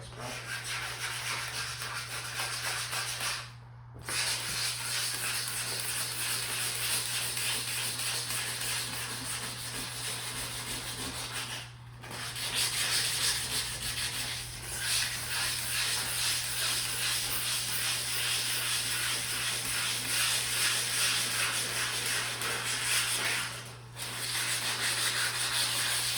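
Car bumper being sanded: a continuous, rough, close-up scratching hiss over a low hum, broken by three short pauses.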